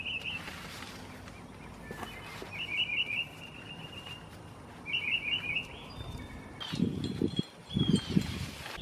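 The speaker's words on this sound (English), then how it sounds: "But the birds don't care. They happy and singing anyway." Birds sing outdoors in Georgia after a downpour, with short bright chirping trills in the middle distance, separated by quiet rustling, followed by a few louder close thumps and scuffs at the end.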